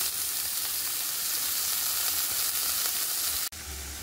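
Cut taro stolons hit a kadhai with dried red chili, chopped onion and crushed garlic, giving a loud, close, continuous sizzle that briefly drops out near the end before resuming, with no voices.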